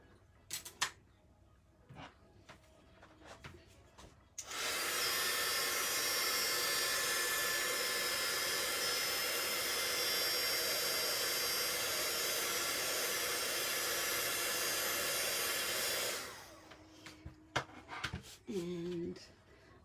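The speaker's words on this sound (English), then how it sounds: "So I'll just heat emboss this." A heat embossing tool blows hot air over a card for about twelve seconds, a steady loud roaring hiss that starts abruptly and stops, framed by quiet handling clicks before and after.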